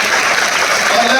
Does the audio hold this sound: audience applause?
yes